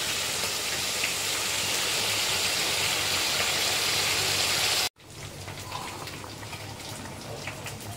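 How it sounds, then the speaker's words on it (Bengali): Bengali chitol macher muitha fish curry broth boiling hard in a pan, a dense, steady bubbling hiss that cuts off abruptly and resumes at a lower, thinner level, with no talking. "এই যে ঝোলটা ফুটে গেছে, হয়ে এসছে"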